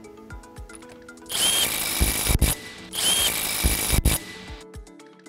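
An impact wrench tightens the disc bolts in two loud bursts of about a second each. Each burst is a dense rattling whir ending in sharp hammering blows, with quieter handling clanks before, between and after.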